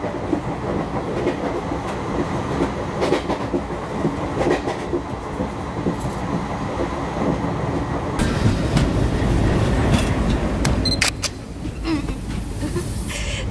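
A train rolls along the rails approaching a station, a continuous rumbling roar with rhythmic clickety-clack, growing louder and busier partway through, with no talk.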